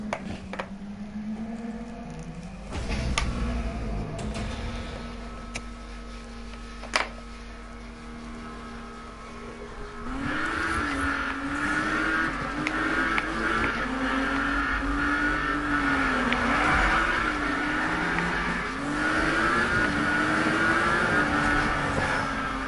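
A Lamborghini Aventador in Need for Speed 2015 revs hard, its engine note climbing and dropping in repeated waves through the gears, steady and loud, after a calmer stretch of lower engine drone.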